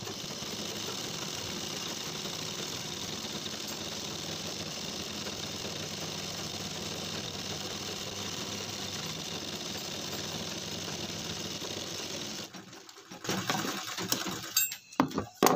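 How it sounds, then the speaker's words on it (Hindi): A sewing machine stitches the hem of a pair of jeans with a steady, fast mechanical whirring and clatter for about twelve seconds, then stops, leaving a few faint handling knocks. "तो चलिए अपनी मशीन पर इसको करते हैं कम्प्लीट।"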